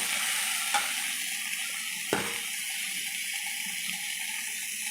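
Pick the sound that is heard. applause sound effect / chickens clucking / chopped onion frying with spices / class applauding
chopped onion frying with spices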